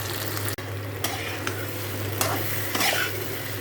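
Cumin seeds tempering in hot oil, a continuous crackling sizzle with a few sharp clicks and stirring scrapes scattered through, close and moderately loud, no voices.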